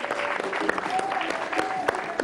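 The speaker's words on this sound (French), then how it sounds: "On va les applaudir également." Audience applause at a Burkina Faso television sports news event, a dense steady patter of clapping with faint voices and brief tonal whistles or calls mixed in.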